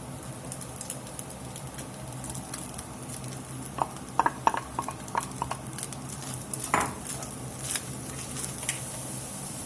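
Browned ground lamb and onion cook in a pan with a low, steady sizzle, punctuated by scattered scraping and stirring clicks from a utensil, faint and close.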